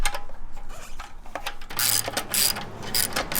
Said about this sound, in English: So I'm going to loosen this collar up underneath.